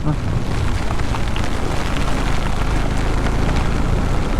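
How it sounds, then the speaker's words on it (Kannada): Dense, steady patter of rain with a broad rushing hiss and low rumble, loud and close throughout. "ಮಳೆ ಶುರು ಆಯಿತು."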